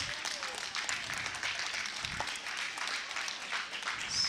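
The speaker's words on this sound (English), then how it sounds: "the clapping from surrounding games" Steady applause from a distant crowd at neighbouring games in a high school curling championship, with a low murmur of voices underneath.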